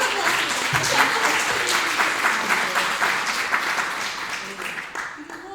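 Audience members at a Daegu chamber concert with soprano, baritone, piano and violin clap again in a sustained, even wave of applause that stays strong and close for several seconds before easing slightly.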